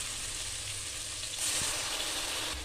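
Masala with sautéed tomato and vegetables for an upma sizzles in a hot pan, a steady frying hiss that swells slightly halfway through, with no voices.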